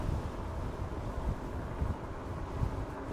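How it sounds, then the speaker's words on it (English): Outdoors along a rural road near a cemetery on an e-bike ride: steady gusty wind buffets the microphone with a constant low rumble and no pauses. "Boy, it's windy down here."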